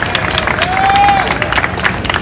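A large crowd cheers and applauds at the Japan Parade opening ceremony in Central Park, New York, a steady roaring wash of outdoor voices with a sustained whistle rising briefly in the middle.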